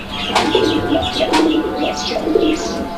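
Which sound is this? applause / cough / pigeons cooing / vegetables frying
pigeons cooing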